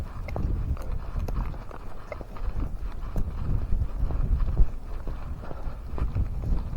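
Horses' hooves clip-clop at a brisk, steady pace, the irregular close hoof strikes continuing throughout over a low rumbling background.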